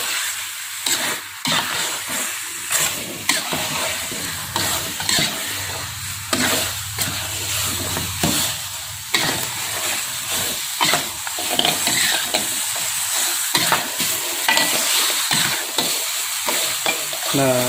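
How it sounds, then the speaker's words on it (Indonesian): Beef trotter curry is stirred in a hot pan: a constant close sizzle and hiss runs under repeated rhythmic scraping strokes of a utensil for the whole stretch. "Kita aduk rata seperti ini"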